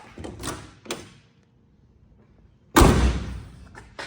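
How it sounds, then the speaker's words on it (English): A 1985 Ford Thunderbird Pro Stock race car door shuts with a solid, heavy thud after a few quieter handling clicks and rustles. "that door shuts nice"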